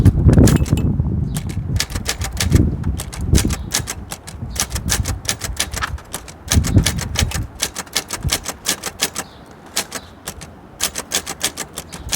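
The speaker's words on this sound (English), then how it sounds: "This is one of 3 of my prized typewriters. This is my Escort 350" An Escort 350 manual typewriter clacks out a quote in fast, close keystrokes, dense runs of sharp strikes with brief pauses and occasional heavier thumps, alone without any talk.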